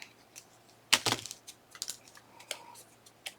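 A piece of paper ephemera being cut down during a Graphic 45 papercraft project, heard as a quick cluster of crisp, close snips followed by faint, scattered paper rustles in an otherwise quiet room.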